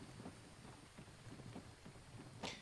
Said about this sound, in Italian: comincia anche a piovere, sono senza tetto